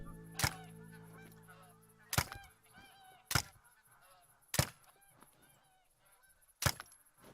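Geese honk loudly several times at irregular intervals, with softer calls and chatter from the flock continuing between the blasts.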